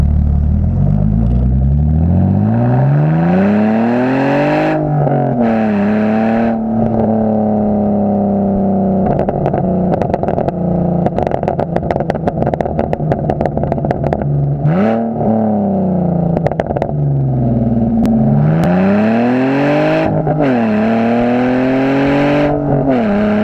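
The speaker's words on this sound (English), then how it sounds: "sticking a GoPro right next to the exhaust, so you can hear properly how it sounds like." A BMW Z4 sports car exhaust revs hard again and again, loud and close, each rise in pitch followed by crackling pops and a drop back to a rumbling idle.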